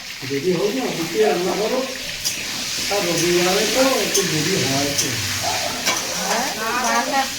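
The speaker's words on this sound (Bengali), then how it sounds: "আলুটা ভেজে নেবো" Potatoes fry in hot oil in a home kitchen, giving a steady, fairly loud hissing sizzle that runs throughout beneath nearby voices talking and chanting.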